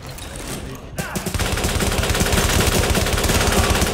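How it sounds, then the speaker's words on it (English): Rapid gunfire bursts out in a video game set at a central train station, starting with a sharp shot, then sustained dense machine-gun fire that stays loud and continuous to the end. "Reporting gunfire in the station above us."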